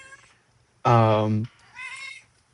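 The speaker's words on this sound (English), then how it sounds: "Sorry, that's my cat." A pet cat indoors gives one loud, close meow, long and clear. A person then says a brief word.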